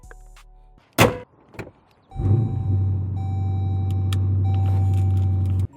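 Dodge Durango blower motor pushing air after a repair, switching on with a click and then settling into a steady, fairly loud whirring hum with a faint tonal whine that holds for several seconds.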